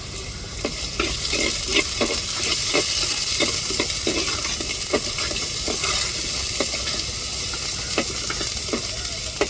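Steady sizzling of curry leaves frying in hot oil in a pan, with scattered crackles and pops and occasional stirring scrapes throughout.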